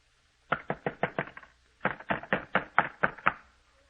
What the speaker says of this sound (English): Keep him from pounding on this door